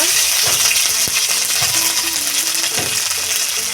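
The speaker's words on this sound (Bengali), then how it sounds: "কাঁচা লঙ্কা আদাটাকে ভালো করে ভেজে নিতে হবে" Green chili and ginger frying in hot oil with bay leaf in a pan, a steady loud sizzle punctuated by clinks and scrapes of a spoon stirring against the metal, with no voices.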